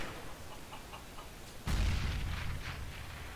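Grenade going off in a CS:GO match on the Inferno map: soft ticking and clicks first, then a sudden deep boom that rolls and fades over the next second and a half, with no talk.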